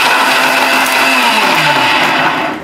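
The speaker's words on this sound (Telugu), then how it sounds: "మొత్తం మిక్సీ పెట్టేసిగా చూపిస్తాను మీకు" A mixer grinder whirs loudly and continuously as it blends, its pitch shifting slightly before winding down at the end.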